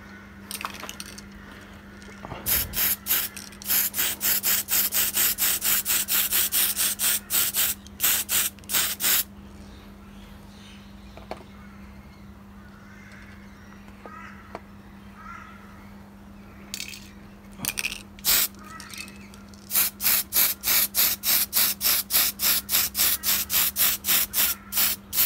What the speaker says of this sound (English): I'll spray some of this too because some will be visible.